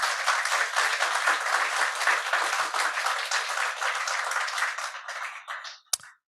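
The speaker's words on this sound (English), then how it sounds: "round of applause for the panelists" A conference audience applauds the panelists at a housing event, steady broadband clapping holding for about five seconds before tapering off, ending with a single sharp knock.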